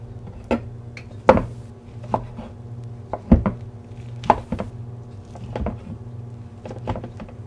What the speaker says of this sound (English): I'm going to give this a chop